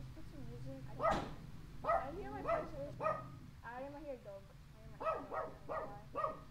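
A pet dog barks and yips in short, repeated bursts indoors, fairly close, with steady background noise behind it.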